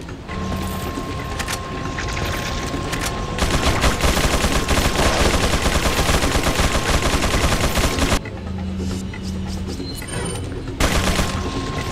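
Sustained bursts of gunfire from a firefight in the video game Resident Evil 4 rattle on loudly for several seconds, briefly ease, then return in short salvos.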